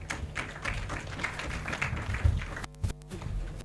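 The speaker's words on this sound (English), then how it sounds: "Let us have better claps for the clerk" Applause from senators and staff for the clerk at a parliamentary induction retreat, a steady patter of clapping from a modest crowd in a hall, with a few louder claps near the end.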